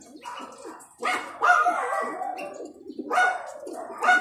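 Dogs bark in repeated loud bursts near a pigeon loft, two or three clusters of barks with pigeons cooing softly underneath between them.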